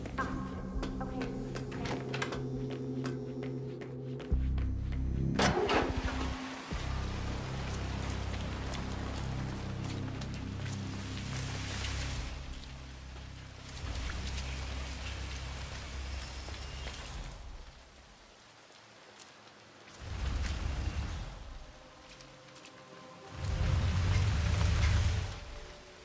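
Rain falls steadily in the video game Hitman 3, a soft continuous hiss with patter that swells and fades in several longer stretches, faint and distant.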